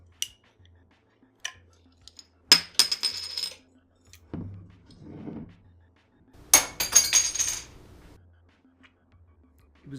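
A bottle of Flying Monkeys Invictus 2016 beer, an 18.4% strong ale, being opened: a few separate metallic clinks and clatters of the cap and opener against hard surfaces, close and sharp, with quiet gaps between.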